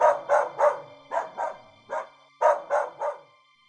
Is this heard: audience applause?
no